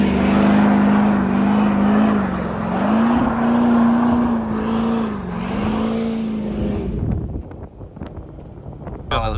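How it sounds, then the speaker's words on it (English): A truck burning its tires at a truck show, with a loud engine drone that rises and falls in pitch for about seven seconds, then drops away into wind buffeting and crowd noise. "Just Jackers can burn his tires."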